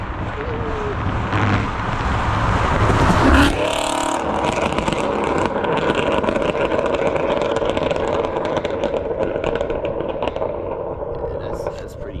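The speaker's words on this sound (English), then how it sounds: "But his exhaust is still pretty loud." A loud supercharged Mustang exhaust roars steadily with a burst of acceleration early on, heard close up amid wind noise, with people talking over it.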